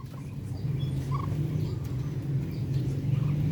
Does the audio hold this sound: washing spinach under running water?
no